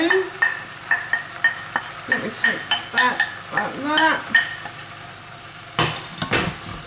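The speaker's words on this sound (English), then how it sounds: "I'm going to add back in the minced beef that I removed from the pan earlier. I'm just going to stir everything together like so." Minced beef stirred through black bean noodle ingredients in a hot pan, with repeated scraping and clattering strokes over a light sizzle. A person talks briefly partway through.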